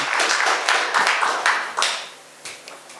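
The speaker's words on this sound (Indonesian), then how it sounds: "mari kita sambut pembicara kita, Bapak Ikhwan Susanto Cahyadi dengan tepuk tangan yang meriah" A seminar audience applauds to welcome a speaker at a Christian parenting talk, a burst of many hands clapping that is loud at first and then thins out to a few scattered claps.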